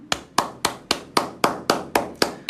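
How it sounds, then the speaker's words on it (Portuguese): A single person clapping, ten sharp evenly spaced claps at a brisk steady rhythm, close and alone with no voices. "Salva de palmas."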